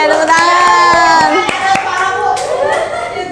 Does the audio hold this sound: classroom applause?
yes